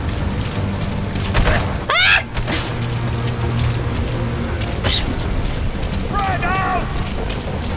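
A frag grenade explodes in Metal Gear Solid 5 amid constant loud, noisy battle sound, with one sharp blast standing out early on and faint whistling tones drifting over the din.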